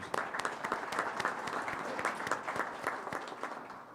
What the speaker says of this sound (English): Let's give all of our visiting guests a round of applause.